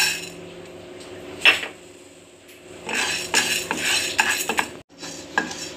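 Horse gram dry-roasting in a pan, with a spatula scraping and clattering against the metal in uneven bursts, close and fairly loud, with brief quieter gaps between stirs.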